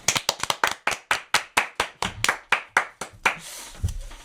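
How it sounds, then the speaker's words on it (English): Hand clapping by a small group on a trip in Death Valley, a quick run of sharp, close claps that settles into a steady rhythmic beat before trailing off, with a faint voice at the end. "If you're pretty, clap your hands."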